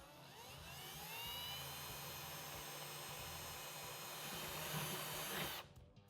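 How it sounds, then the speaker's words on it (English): A power drill bores through a Tusk Frontier pannier box in a steady, loud whine with shifting pitch for about five and a half seconds, then cuts off abruptly near the end. "Now once you have that first hole drilled"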